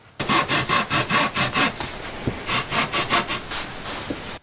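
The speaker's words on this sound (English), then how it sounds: "So now what we need to do is cut this stuff up." Fishing rod handle material being sawn by hand, a quick rhythmic series of about a dozen rasping back-and-forth strokes, close and loud with a brief pause midway.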